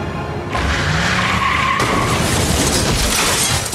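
A car in the Tales from the Borderlands game skids with a long, loud, steady tire squeal and road noise that keep going without a break, with no talking over them.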